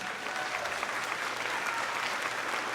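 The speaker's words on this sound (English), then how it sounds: "Y'all clap your hands up for Mrs." A school moving-up ceremony audience claps for a staff member, a steady, even wash of applause from a sizable crowd that stays level throughout.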